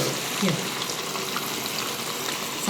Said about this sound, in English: We're going to deep fry this for about 10 minutes until it's golden crispy